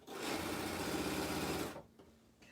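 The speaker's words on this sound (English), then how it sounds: "I'm going to tug on it a little bit as I'm sewing" Sewing machine stitching quilt pieces, a fast steady mechanical whir for about two seconds that stops abruptly, then quiet with faint handling sounds.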